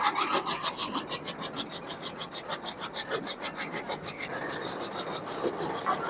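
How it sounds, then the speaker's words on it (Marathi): A chaff cutter runs with a fast, regular rasping rhythm, like a blade repeatedly chopping, steady and close, with no voices. "आता ही मशीन मी तुम्हाला एक डेमो म्हणून चालू करून दावतो"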